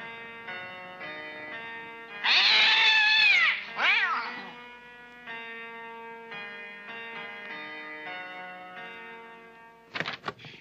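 A house cat gives a loud drawn-out meow and a shorter second call over a soft sustained musical backing, with a brief clatter near the end.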